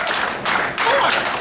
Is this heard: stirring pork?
no